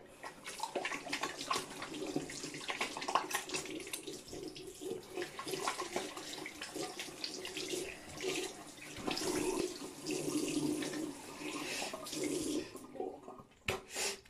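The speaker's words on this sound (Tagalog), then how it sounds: "banlaw ulit" Water runs steadily from a tap for a rinse, a continuous close splashing stream with small surges and shifts, alone without talk, briefly cutting off near the end.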